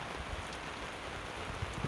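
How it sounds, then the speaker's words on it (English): Steady, dense hiss of heavy rain bucketing down in cold weather in New South Wales, constant throughout with a few louder splatters near the end and no voices. "in the rain, bucketing down."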